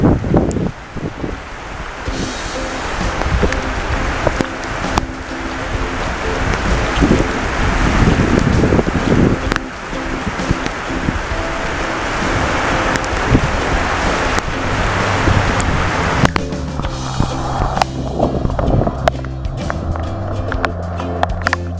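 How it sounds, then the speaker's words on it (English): Steady rain and gusty wind buffet the microphone during an outdoor walk in an Arizona monsoon, a loud continuous wash with rumbling gusts that eases toward the end, no talking. "Here we are, walking along in the rain."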